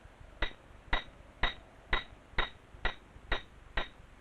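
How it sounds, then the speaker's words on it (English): Climbing pitons hammered into rock cracks: sharp metallic strikes repeating at an even pace of about two per second, eight or nine blows in all, close and clear with no voices. "The lead climber's life depends on the pitons he hammers into cracks."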